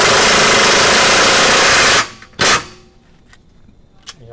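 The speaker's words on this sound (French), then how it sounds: "je serre un peu la clé à choc." A pneumatic impact wrench tightens towbar nuts on a Fiat X250 camper, giving one loud continuous rattling burst that stops abruptly, then a short second burst and a few faint clicks.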